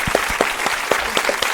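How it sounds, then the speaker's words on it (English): Applause for performer Teresa Lo at a comedy show, brief loud clapping with a few distinct close claps over a general crowd patter. "Let's give her a round of applause"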